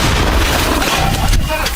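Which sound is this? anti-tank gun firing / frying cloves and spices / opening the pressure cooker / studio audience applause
anti-tank gun firing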